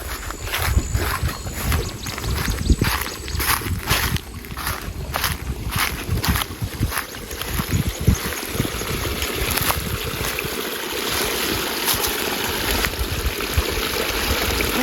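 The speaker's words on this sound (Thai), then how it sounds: "น้ำก็ไหลแรงอยู่นะ" Water rushes strongly through a stream in a garden orchard in the evening. The flow makes a steady, loud wash of noise for the whole stretch, with scattered faint knocks and no talking.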